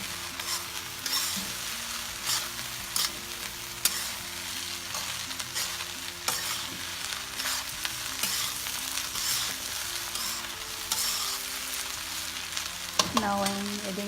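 Cooked rice being stirred into vegetables in a hot pan for egg fried rice gives a steady close sizzle with scraping stirs and occasional spatula taps, ending in a brief clatter.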